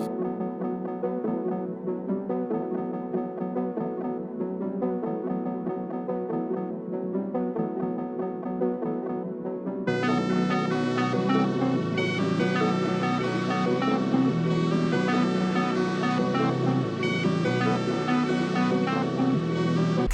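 An FL Studio music loop called Nargis 31 plays alone, a sparse melodic layer for about ten seconds before fuller, louder instrumentation joins and carries it steadily to the end.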